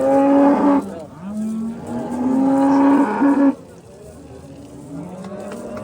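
Cattle moo loudly and close by at a livestock market, several long low calls in a row, then fainter lowing in the background.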